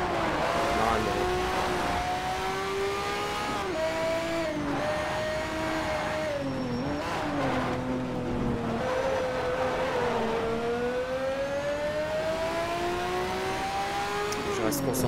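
A race car in Need for Speed Shift accelerates hard, its engine whining loudly and rising through gears with repeated pitch climbs and drops, steady and close throughout.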